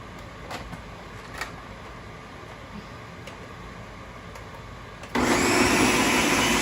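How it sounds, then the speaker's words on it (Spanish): After several seconds of quiet handling and a few small knocks, a kitchen blender rinsing out with water suddenly starts up, its loud, steady whirring roar continuing to the end. "La otra taza yo la utilizo para enjuagar la licuadora."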